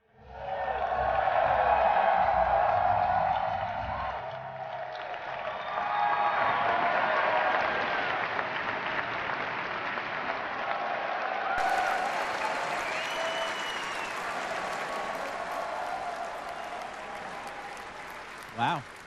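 An audience at a Star Wars Celebration panel applauds and cheers, a dense wash of clapping that bursts out at full strength and then holds steady as it slowly tapers off.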